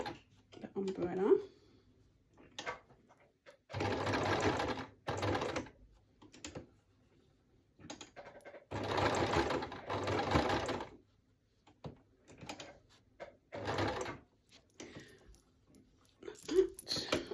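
Bursts of a sewing machine stitching appliqué onto a people-themed quilt, whirring in several runs of a second or two each at close range, with a voice talking in the pauses between them.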